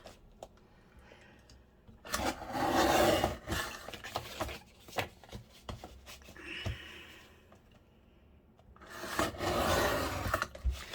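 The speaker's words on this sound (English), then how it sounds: "I'm just going to trim this a little bit and make sure it's a bit more straighter." Trimming the edge of a soft junk journal cover, likely with scissors or a blade, gives quiet scraping and rasping cuts in two longer bursts with short rubbing sounds between them, close by and with no one talking.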